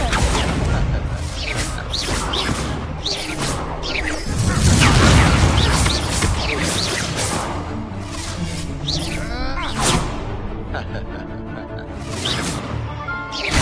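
Spell blasts from Hogwarts Legacy combat, dense booming explosions and whooshing bursts layered over a continuous game score, with a heavy low rumble near the middle and sharp crashes later on.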